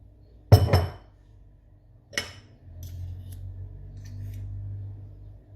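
Honey sauce with mustard and parsley mixed in a bowl: one sharp clinking strike of a utensil against the bowl, then a softer clink, followed by a low steady hum with faint scraping, close by.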